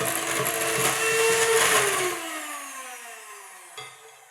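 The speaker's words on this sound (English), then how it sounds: "Now hand mixer back on." A hand mixer whirs through a body scrub mixture, loud and close for about two seconds before the motor winds down and fades, ending with a small knock.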